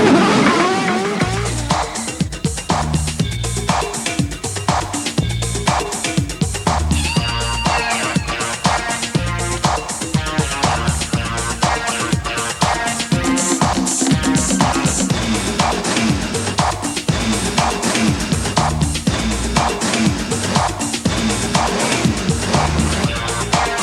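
Race car engines roaring in the Nigel Mansell's Indycar '94 video game, loud continuous revving with gear changes and tire squeals throughout, no talk.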